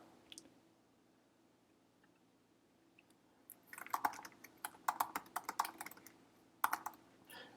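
Typing on a computer keyboard, quiet at first and then a run of quick, close key clicks in uneven bursts, heard alone.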